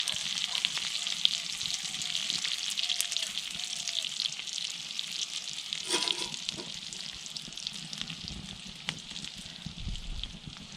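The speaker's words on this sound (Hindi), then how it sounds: "इनको हम बटर में भून रहे हैं" Gucchi morel mushrooms fry in butter, cooked Himalayan shepherd style, with a steady, fairly soft crackling sizzle and a few faint stirring sounds throughout.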